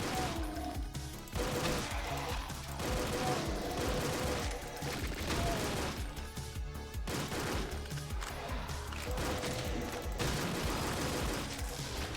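Rapid, loud gunfire from a pistol in a video game, dense bursts and cracks packed across the whole stretch with only brief gaps, layered over busy game music and effects.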